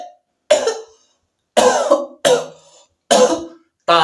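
A person imitates coughing, giving five separate harsh, throaty coughs with short silent gaps between them, loud and close with nothing else audible.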